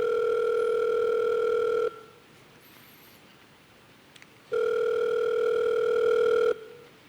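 Telephone line tone heard on answering a call: a steady, loud electronic tone sounds alone for about two seconds, falls silent for a few seconds, then returns for another two-second burst.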